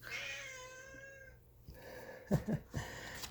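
A cat meows in a long, wavering cry, followed by a few soft thumps and rustles nearby.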